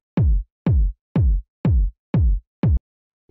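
Punchy tech house kick drum sample, dry and unprocessed, struck six times at a steady pace about half a second apart, each hit a deep, booming thump with a quick decaying tail, loud and alone.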